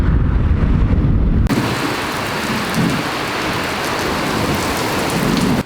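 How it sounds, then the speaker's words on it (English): Heavy rain from a huge thunderstorm pours down in a dense, loud, steady hiss with deep rumbling underneath, after a brief low roar at the start, with no voices. "after 3 hours of riding I rode straight into a huge thunderstorm."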